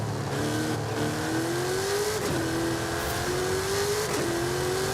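A Chevrolet Camaro in Forza Horizon 5 holds a loud, steady engine drone, its pitch climbing smoothly then dropping sharply at two gear shifts before rising again.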